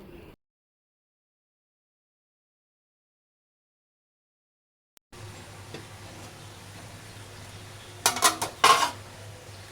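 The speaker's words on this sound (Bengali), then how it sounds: "ঢাকনা তুলে ভালোভাবে নাড়ে চাড়িয়ে দেবো, যাতে কড়াইয়ের গায়ে আমড়ার মোরব্বাগুলো লেগে না যায়" Hog plum (amra) morabba gets stirred in a wok: after near silence and a faint hiss, a short burst of several metallic clinks and scrapes rings out close by.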